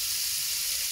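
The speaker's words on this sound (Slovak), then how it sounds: "potom ju budeme už iba vlastne restovať na panvici po ďalšie 4 minúty" Pork tenderloin sears in a frying pan with a dense, bright sizzle. The hiss is close and steady and holds without a break for the whole moment.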